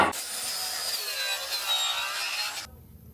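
A saw cutting a quarter-inch plywood sheet, giving a steady, loud rasping whine close by that runs for over two seconds and then stops abruptly.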